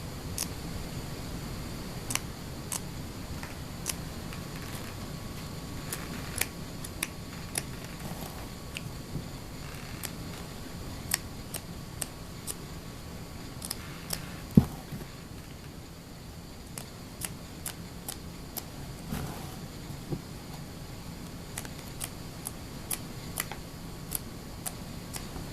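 Scissors taking small snips through fur fabric while cutting teddy bear pattern pieces, a quiet series of sharp, irregular clicks spread over a long stretch.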